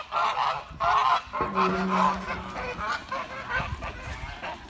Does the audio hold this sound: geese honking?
yes